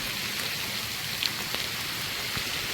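Heavy rain pours steadily on an off-grid homestead, a dense, even hiss with a few scattered louder drops, continuous and unbroken with no voices.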